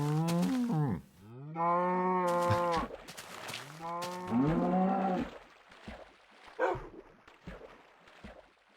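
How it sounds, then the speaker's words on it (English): Cows moo in a series of long, loud, drawn-out calls, three or four close bellows in a row, followed by quieter scattered noises. "Cows."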